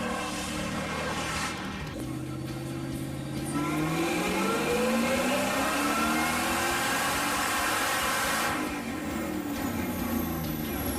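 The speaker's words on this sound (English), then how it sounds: "This was me making a pass on the car out in front of Hunter's house." A drag race car revs and accelerates hard on a street, its pitch sweeping upward in long rising tones, loud and sustained throughout.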